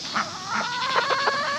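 Chickens clucking in the shade under an old trampoline, several close, loud, repeated clucks and squawks in quick succession with no talking.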